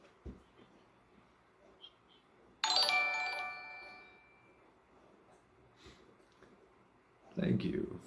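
A doorbell-like alert chime for a new follower on a casual livestream rings out loud and bright for about two seconds, then fades, with soft talk and room noise before and after.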